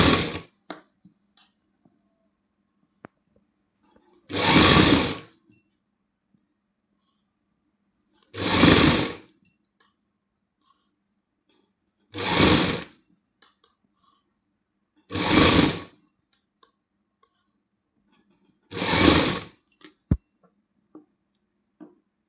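Sewing machine stitching lace trim onto a suit, heard as five separate bursts of whirring a few seconds apart, each lasting about a second, close and fairly loud against near silence.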